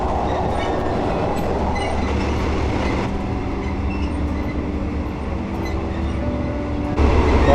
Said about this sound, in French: il est 23h et je me promène dans le train